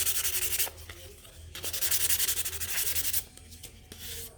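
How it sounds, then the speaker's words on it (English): Close, loud sanding of a wooden DIY sign kit piece by hand, rough rhythmic rubbing strokes in bursts with brief pauses between them. "I'm gonna give this a sand again"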